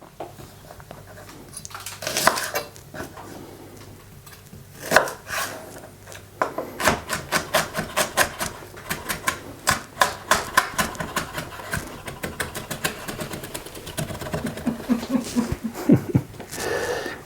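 Knife chopping onion on a cutting board: a fast run of sharp, crisp taps in bursts, a steady rapid rhythm through most of the stretch, close and fairly loud with no talk.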